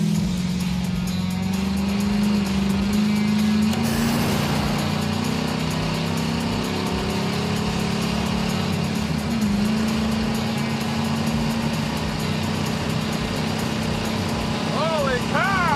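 A bone-stock Oldsmobile 455 V8 with exhaust, a Holley carburetor and a 125 shot of nitrous roars loudly and continuously, its steady drone shifting pitch slightly midway, with a brief squeal near the end.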